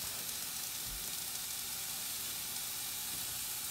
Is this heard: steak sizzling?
yes